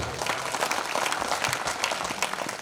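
An audience at a kavi sammelan poetry gathering honouring Atal ji's birth anniversary claps steadily throughout, a dense, even wash of applause with no speech over it.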